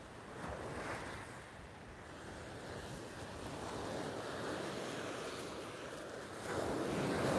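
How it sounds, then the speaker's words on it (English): Wind gusts over open sea during a fishing session, with steady broadband rushing and surf-like wash, swelling louder toward the end; no voices. "That's wind coming through again."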